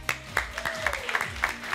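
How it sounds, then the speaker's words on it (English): A fitness class applauds itself at the end of a tough workout session, with several sharp clap bursts standing out over a steady room background. "All right, everyone, give yourself a round of applause."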